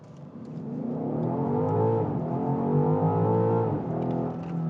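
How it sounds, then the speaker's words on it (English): A BMW XM performance SUV accelerates at full throttle, its exhaust roaring and engine pitch climbing through the gears with a brief dip at a shift, loud and close with no talk. "You hear that exhaust, it makes you feel alive."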